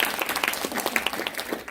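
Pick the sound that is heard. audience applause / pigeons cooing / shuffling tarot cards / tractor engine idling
audience applause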